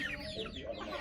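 Quiet, steady clucking comes from chickens feeding on banana heart, a low murmur of several birds with no one speaking.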